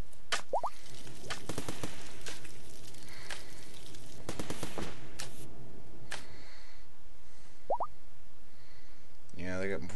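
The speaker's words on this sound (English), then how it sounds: "they got two mortars up and running" Two mortars firing in RimWorld: sharp, hollow pops and ticks land in irregular bursts over a constant low hum, with a voice briefly starting at the very end.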